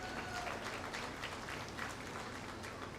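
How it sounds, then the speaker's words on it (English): An audience at a county fair junior cattle show claps steadily for the young exhibitors, a dense wash of applause that holds even throughout. "Let's give them a really, really big round of applause"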